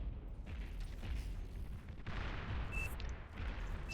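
Artillery fire in Beyond All Reason, an 8v8 battle on Koom Valley: a continuous rumble of distant booms and scattered shots rolls throughout at steady loudness, with a short high whistle near the end.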